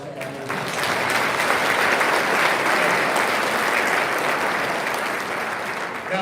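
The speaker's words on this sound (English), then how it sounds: "How about a round of applause for our" Audience applause at a community event, a dense, loud burst of clapping that swells quickly and holds steady for several seconds before easing slightly toward the end.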